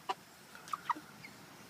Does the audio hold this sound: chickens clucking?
yes